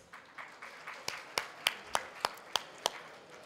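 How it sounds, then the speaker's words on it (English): Sparse applause for Dr. Phillips at a youth employment workshop, a few distinct, sharp claps at a steady rhythm over a faint room background, with no broad crowd wash. "let us give a round of applause to Dr. Phillips"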